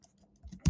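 Fingers tapping a computer keyboard while typing a supplier's address into a form, a couple of faint keystrokes and then one louder, nearby clack at the end.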